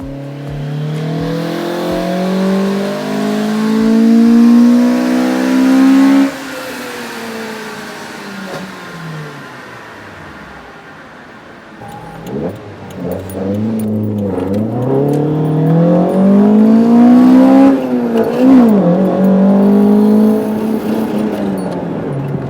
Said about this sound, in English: With the 4AGE up and running